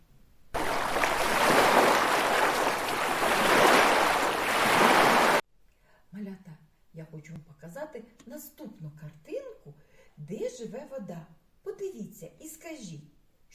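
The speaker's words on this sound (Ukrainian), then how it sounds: "Так, це море. А давайте подивимось та послухаємо його." A broad roar of sea waves washes loudly for several seconds, then stops abruptly and a person speaks.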